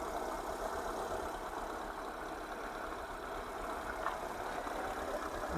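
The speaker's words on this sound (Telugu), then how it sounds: "చూడండి, ఇంజన్ కూడా చాలా సైలెంట్గా ఉంది." A Hyundai Santro car in good condition idles with its bonnet open, a quiet, smooth and steady engine hum heard close by without talk.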